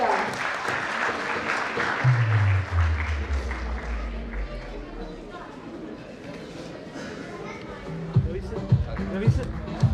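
A conference closing ceremony audience claps for a prize winner; broadband applause fills the opening seconds then thins while someone speaks over it, with a few stray claps near the end.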